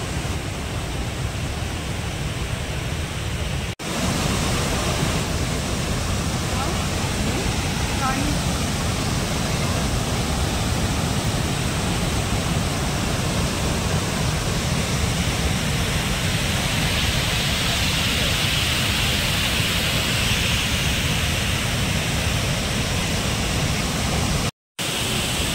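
Someshwar waterfall roars as a steady, loud broadband rush of falling water, continuous and close, filling the whole stretch without pause.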